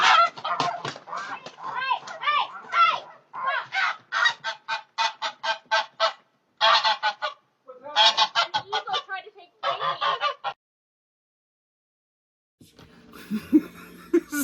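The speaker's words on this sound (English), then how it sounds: "so she has a pet goose named Frankie" A pet goose honks loudly and repeatedly in Canada, in a long series of close, harsh calls in bursts with brief gaps, followed by a pause and some fainter rustling noise at the end.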